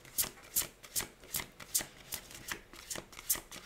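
A deck of playing cards being cut and riffle-shuffled, close and crisp, with about ten quick rhythmic bursts of flapping card edges and no voice.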